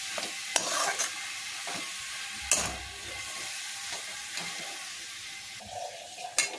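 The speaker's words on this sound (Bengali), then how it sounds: "এইভাবে এই মশলার সাথে এবারে এঁচোড়টাকে মেশাতে হবে ভালো করে।" Young jackfruit is stirred and fried with spices in a pan, a soft steady sizzle broken by scraping strokes of a spatula and a few sharper clatters, close and fairly quiet with no voices.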